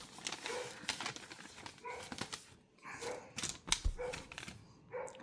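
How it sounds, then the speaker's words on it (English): A dog barks and yips in the background of a room, with several short, faint barks scattered over a few seconds and a soft whimper between them. "Sorry about the dog."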